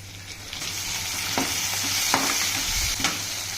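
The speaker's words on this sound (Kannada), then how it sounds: "ಫ್ರೈ ಆಗಿದೆ ಈಗ ಇದಕ್ಕೊಂದು ಟೊಮಾಟೊ ಆ್ಯಡ್ ಮಾಡಬೇಕು ಟೊಮಾಟೊ ಹಣ್ಣು ಹಾಕೋಣ" Onions, chillies and curry leaves sizzling in a pan as tomato goes in, a constant close frying hiss broken by a few sharp stirring scrapes.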